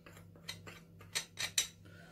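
Metal spoon stirring pizza sauce mixed with garlic, salt and black pepper in a dish, a handful of light clinking scrapes in an uneven rhythm, close and fairly quiet with no talking.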